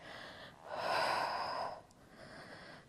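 A strong, airy exhale during a Pilates rotation, rising after half a second and holding for about a second before easing into softer breathing, close and alone with no talk.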